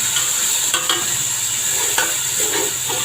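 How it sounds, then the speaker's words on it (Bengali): Chicken pieces sizzle and are stirred in a pan with fried garlic while making chicken fried rice, a steady close hiss broken by a few scraping stirs, with no talking. "মাংসটা দিয়ে একটু ভেজে নিব।"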